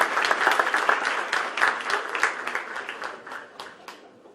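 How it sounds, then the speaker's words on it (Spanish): A university audience claps to welcome Senator Carlos Castillo to a lecture on Haiti's political situation, a brisk round of many hands close by that gradually tapers off within a few seconds. "con su aplauso vamos a recibir al honorable senador Carlos Castillo"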